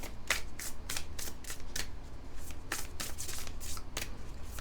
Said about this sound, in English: We're going to draw one card from my deck as well before we get into the tarot.